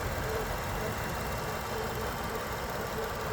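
A 2017 Range Rover Sport HSE Dynamic engine idles smoothly and steadily, a constant low hum with a faint even rumble, heard up close and alone with no voices.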